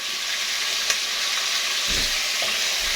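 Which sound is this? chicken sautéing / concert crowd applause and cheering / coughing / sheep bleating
chicken sautéing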